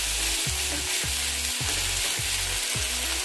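Ground meat sautés in a hot pan for Filipino ginisang giniling, a dense continuous sizzle under a repeating low rhythmic thump roughly every half second, steady and loud with no voices.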